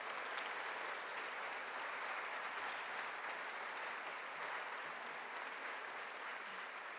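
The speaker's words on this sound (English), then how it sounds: "Let's give them all another big round of applause." Audience applauding the winners at a healthy cities summit, a steady, even wash of clapping from a large crowd that holds for several seconds at a moderate, slightly distant level.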